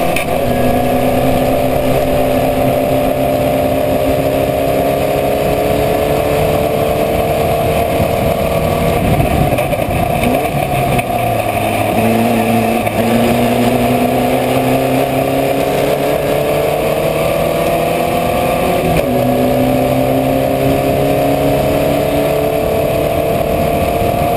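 Formula Vee race car engines drone loudly and steadily from onboard during a circuit race, with pitch rising and falling through gear changes as nearby cars run close together.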